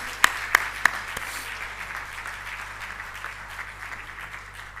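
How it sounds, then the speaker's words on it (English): Conference audience applause at an annual international accounting conference: a few sharp close claps at the start, then a softer, steady round of clapping from the hall. "Can we have a huge round of applause, ladies and gentlemen, for Ms. Dua?"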